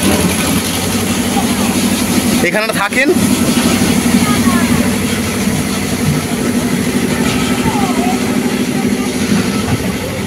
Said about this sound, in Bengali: এই হলো মেন ইঞ্জিন ঘর